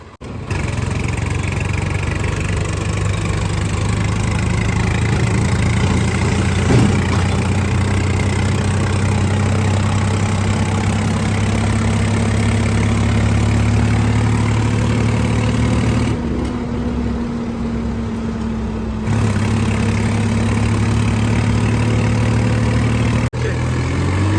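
A tractor engine idles steadily for the whole stretch, a low rumbling drone with no voices over it.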